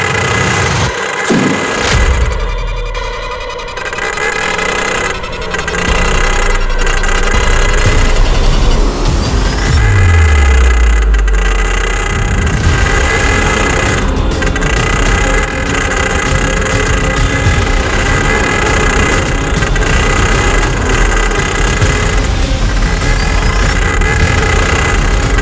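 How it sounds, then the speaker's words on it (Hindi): Engine of an auto rickshaw at an auto race, a steady mid-pitched running drone that holds loud throughout with a brief low revving swell partway through, no talk. "मैं और श्याम हर शनिवार को ऑटो रेस में हिस्सा लेते हैं।"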